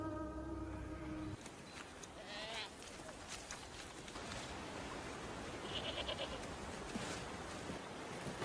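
Goats bleating, several quivering calls at intervals over a noisy outdoor background, with a low tone at the start and a person speaking briefly.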